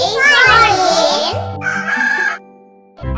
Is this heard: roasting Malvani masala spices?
no